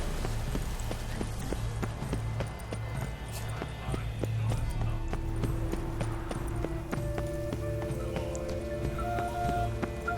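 A horse gallops in the Witcher 3 video game, steady rhythmic hoofbeats clip-clopping under game music and ambience, with a person speaking over it briefly.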